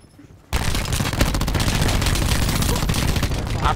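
Dense, continuous automatic gunfire from the video game Black Ops 4 erupts suddenly after a brief quiet start and keeps going loud and close to the end, with no talking.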